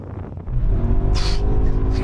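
Several BMW M5 cars launch together in a drag race, a loud engine roar building after a brief quiet start and holding steady with rising gear tones, plus a short high whoosh near the middle.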